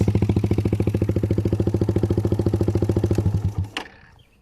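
A Suzuki Raider 150 motorcycle with an open pipe exhaust revs hard in a rapid, loud, even pulsing rattle close by, then cuts off abruptly and dies away.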